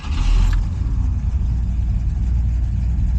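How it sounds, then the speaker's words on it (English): A 1969 Ford Fairlane V8 fires up with a short high-pitched starter whine at the start, then settles into a steady, loud low rumble at idle with no one talking. "Ooh, fired right up. Sounding good."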